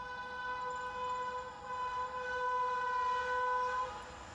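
A Rajdhani Express on the New Delhi–Mathura line near Asaoti sounds a long, steady horn note from a moderate distance over a low rail rumble.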